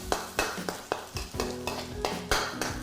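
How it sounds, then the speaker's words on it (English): An egg fries in oil while Singapore noodles are being stir-fried, a steady close sizzle punctuated by regular clacks and scrapes of a utensil against the pan, about ten strokes in quick rhythm. "I like to cook my egg like a fried egg first"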